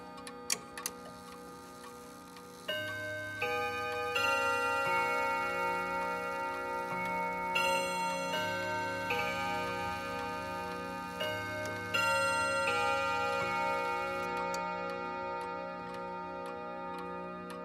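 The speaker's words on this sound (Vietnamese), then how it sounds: "Các bác để ý kỹ thì có thể nghe được cái âm trầm và cái âm ngân của cái côn đồng." A French IROD clock with eight brass gong rods plays a chiming melody, each struck rod ringing out with long, bright sustain that overlaps into a resonant wash beneath a faint steady ticking, with no voices.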